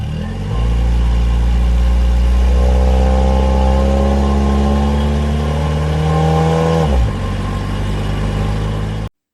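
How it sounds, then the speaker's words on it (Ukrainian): A car engine runs steadily and loud, rising in pitch as it revs, then drops and settles before cutting off. "Так, це машина."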